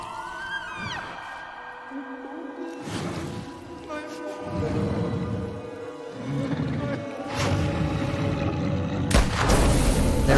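Gunfire from Ray's gun in The Quarry, a booming shot with roaring, rumbling game effects amid music and tonal cues, while a player talks over the action.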